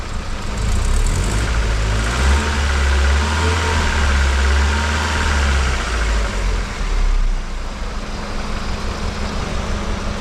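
An Opel Astra CDX fitted with a 2.0 16v X20XEV engine runs close by with a loud, steady mechanical drone and low hum, wavering slightly and easing a little near the end, with no voices.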